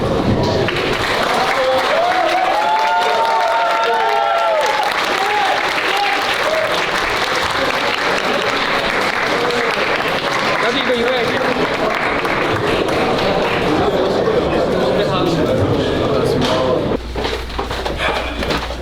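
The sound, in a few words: audience applauding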